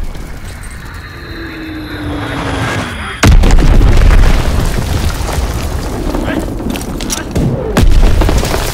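Bomb explosion in Call of Duty WW2: a sudden heavy, close boom cuts in after a quieter stretch, then a long rumbling tail and a second thud, with voices calling out.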